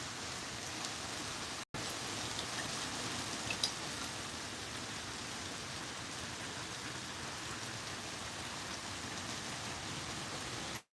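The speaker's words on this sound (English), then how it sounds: "Hold on, it's raining like crazy." Heavy rain pouring down outdoors, a dense, continuous hiss of drops that stays steady and fairly faint throughout, with one brief cut partway through and no voices.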